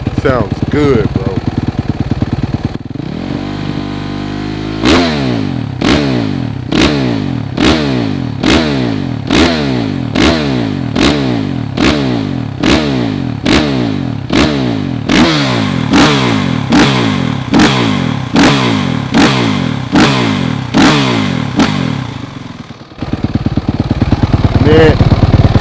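A worn 2023 Suzuki RMZ-450 dirt bike idles loudly up close, then is revved in a long series of sharp, rhythmic blips, about twenty in a row, before settling back to a rough idle.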